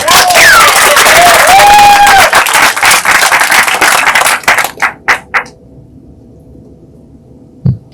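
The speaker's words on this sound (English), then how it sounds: "how about a round of applause for Mr. David A. Romero" Applause and cheering from an audience at a Chicana/o and LatinX poetry reading for a poet, a dense burst of clapping with whistles that thins into a few last claps and then falls quiet.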